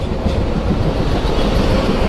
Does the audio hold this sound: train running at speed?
yes